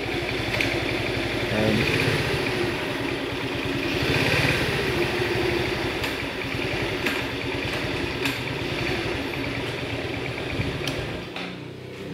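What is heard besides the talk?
Yamaha Vega motorcycle engine running in gear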